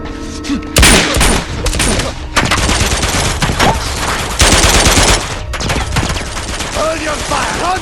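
Gunfire in the Uncharted 2 game, with dense rapid bursts and sharp volleys that rise and fall, loud and close, while voices talk over the shooting.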